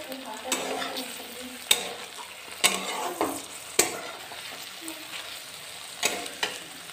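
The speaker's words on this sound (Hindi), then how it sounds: "हम लोग अच्छे से भून रहे हैं।" Food for paneer matar pulav roasting and being stirred in a pan, with a steady low sizzle of frying under repeated scraping stirs and a few sharper clinks of the spoon against the pan, close by and with no talk.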